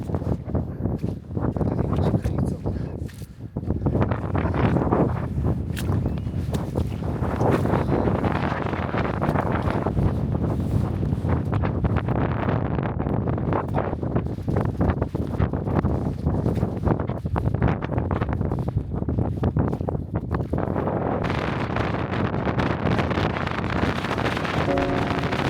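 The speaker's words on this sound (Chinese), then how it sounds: "终于走到了山顶，风声呼啸，迷雾渐散" Wind howling across a mountaintop in the Faroe Islands, strong gusty buffeting with heavy wind noise on the microphone, loud and continuous for the whole stretch.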